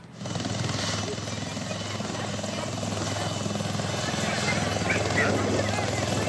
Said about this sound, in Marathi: नाशिकवरून आर्मीचं हेलिकॉप्टर त्यांना सुरक्षित स्थळी हलवण्याचं काम सुरू केलंय